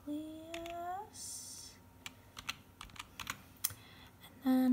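Keystrokes on a computer keyboard, typed into a text box: a short burst of close, crisp clicks scattered irregularly over a few seconds, set apart by brief electronic tones at the start and end.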